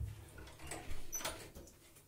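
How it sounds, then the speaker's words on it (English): An indoor door pushed shut, a quiet short swish and soft thud with a faint latch click, heard nearby and alone in a calm room. "Let me close my door."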